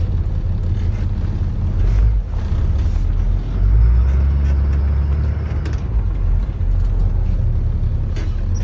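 A passenger vehicle rolls forward a short distance and stops on its service brakes during a pre-trip inspection. Its engine gives a steady, close, low rumble that swells slightly as it moves, with no talk.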